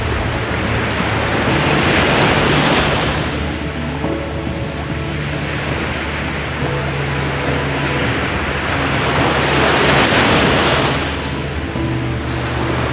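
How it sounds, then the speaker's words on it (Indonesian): Big ocean waves break on the shore in a loud, continuous rush of surf that swells and eases twice, close up and with no voices. "aku ini bermain sama ombak yang besar hari ini, kalian bisa lihat"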